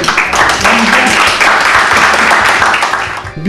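Audience applause after a performance at a communication sciences academy event, a steady dense wash of many hands clapping without pause, loud and close, with some voices mixed in.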